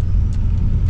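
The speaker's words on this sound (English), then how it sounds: "now we're going off-roading" A Chevy box car drives off-road on a rough stretch of torn-up freeway under construction, giving a loud, steady low rumble of engine and tyres up close, with no talk.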